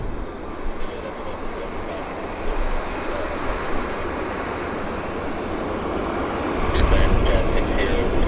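A fixed-wing airliner at Vancouver airport gives off a broad, distant engine rumble as it lands and taxis, the roar swelling toward the end, with a voice talking over it.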